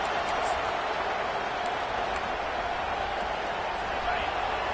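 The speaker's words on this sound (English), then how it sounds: "Listen to this crowd just shaking the girders of this place, trying to help their defense" A packed football stadium crowd roars steadily, a dense, distant-sounding wash of cheering and noise that holds at an even level throughout without a break.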